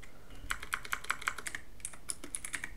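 Rapid light keystrokes on a computer keyboard, a quick run of crisp taps followed by a short pause and a second burst, close and quiet with no talking.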